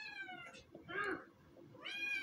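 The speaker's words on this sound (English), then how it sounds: "Stop meowing!" A cat meows three times up close, drawn-out wavering cries with brief pauses between them, faint and alone.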